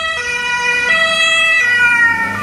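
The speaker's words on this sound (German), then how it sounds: "Du musst auch deine Sirene die ganze Zeit anlassen, ne?" An emergency vehicle siren wails loud and steady, its stepped tones shifting pitch every second or so over low road rumble.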